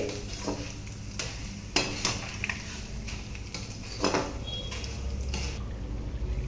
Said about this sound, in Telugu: నేనైతే సగం వేసుకొని వేయించుకుంటున్నాను.